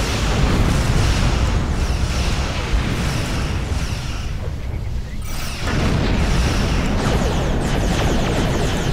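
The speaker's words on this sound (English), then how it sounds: "Heavy plasma torpedo. I don't think I've ever fired one of those off before." Star Trek Online heavy plasma torpedo fire rumbles with loud, continuous booming explosions and crashing blasts, dipping briefly midway before surging again.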